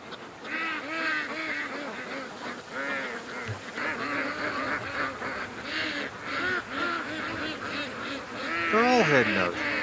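A flock of ducks quacks and honks steadily as they head back out to a lake in the evening, many overlapping calls close by, swelling louder near the end, with a person talking over them.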